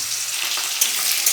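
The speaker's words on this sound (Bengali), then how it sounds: "আলুগুলা ভাইজে নিব।" Potatoes frying in oil with bay leaf, cumin and dried chillies, a brief steady close sizzle with a couple of small stirring clicks and no voices.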